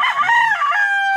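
A single backyard rooster crows nearby, a short loud strained call that trails off.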